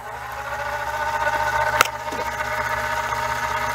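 The spindle of a Cowells 90ME lathe turning, not yet in back gear: a steady close motor whir with a faint periodic tick and one brief sharp click midway.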